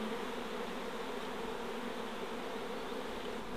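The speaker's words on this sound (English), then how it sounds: "we've got a few bees stuck in here" Wild bees hum steadily around a honey-laden nest, a dense continuous buzz close by with no talking.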